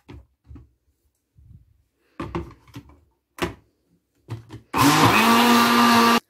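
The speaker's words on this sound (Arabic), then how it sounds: "هبدا ان انا اضربهم بقى بالخلاط مره تانية" Scattered clicks and knocks of setting up, then a blender whirs loudly and steadily for the last second and a half, mixing cake batter with oil, orange and vanilla.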